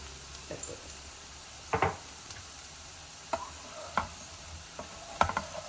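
Potatoes for aloo fry crackle quietly in a pan under a low, steady sizzle, with a few sharp clinks of a spoon stirring at irregular intervals and no voices.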